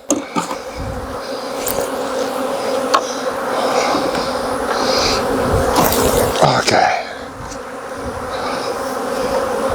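A dense, loud hum of many honeybees buzzing up close as they are shaken off a frame while splitting a hive, with bumps and knocks of handling and a single brief spoken word.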